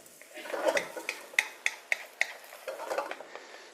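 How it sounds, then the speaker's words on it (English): Eggs frying in oil in a pan, with a soft sizzle under repeated sharp scraping taps of a utensil against the pan at a fairly regular pace. "so we just add a little bit more oil. Make sure that the eggs get cooked up nicely."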